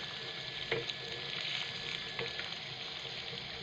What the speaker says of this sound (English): So now I'm going to add in the blended okra. And I have to stir well.